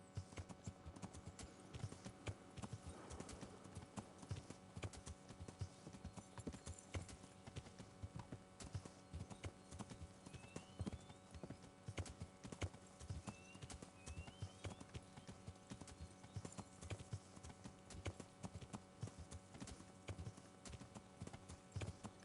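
Horse hooves clip-clop steadily in the medieval video game Kingdom Come: Deliverance, a continuous even rhythm of quiet trotting footfalls lasting throughout, with faint background ambience.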